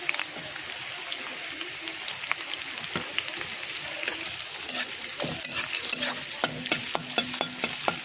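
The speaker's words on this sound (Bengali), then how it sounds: "কড়াইতে তেল দিয়ে দিয়েছি। ওখানে আমি পেঁয়াজ দিয়ে দেব।" Onions frying in oil in a wok, a steady close sizzle with scraping stirs and a few sharp clicks toward the end, mostly without talk.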